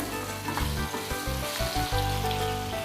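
Goli idli dumplings sizzle and fry steadily in a masala-coated pan while being stirred, with soft scraping and clinks from the spoon over a continuous close hiss.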